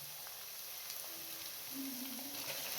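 Spices and dried fenugreek (kasuri methi) with garlic and ginger sizzle in cooking oil with lightly browned onions, a faint steady hiss with soft stirring and no voices.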